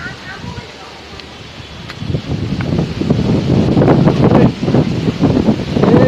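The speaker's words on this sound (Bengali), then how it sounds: "প্রচুর বাতাস, মনে হয় তুফান আসবে" Strong pre-storm wind gusts roar and buffet the microphone, rising from a moderate rush into heavy, rustling blasts that keep building toward the end.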